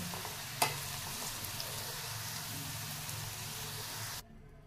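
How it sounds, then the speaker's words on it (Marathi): Onions fry in hot oil for a Kanda Khobra coconut-onion masala, giving a steady broadband sizzle with one sharp tap near the start before the sound cuts off abruptly at the end. "आता कांदा आपला छान तळला गेलेला आहे"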